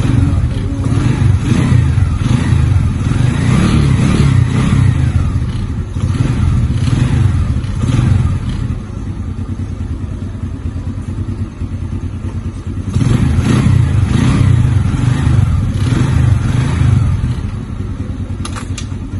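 A Rusi 125 motorcycle engine revs repeatedly in loud bursts, rising and falling close by, with a rough mechanical clatter between throttle blips.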